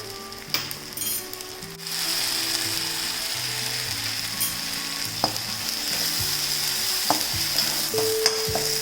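Chopped tomatoes with salt sizzling in a pan while a utensil stirs them, giving a steady close frying hiss broken by sharp scraping clicks.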